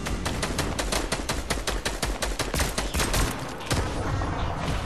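Rapid bursts of Fortnite gunfire crackle continuously, loud and close, with one louder shot near the end.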